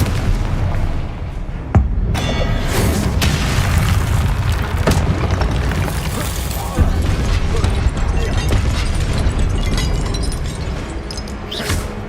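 Fiery Confringo blast spells explode repeatedly in Hogwarts Legacy, heavy booms and bursts landing amid a dense, loud game soundscape with a voice talking over the action.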